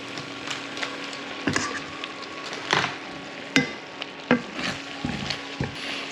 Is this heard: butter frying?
yes